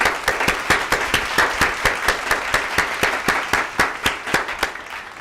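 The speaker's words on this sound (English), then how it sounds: "let's give a big round of applause" Steady, rhythmic clapping, evenly spaced sharp claps continuing without pause, sounding like a small group applauding in time.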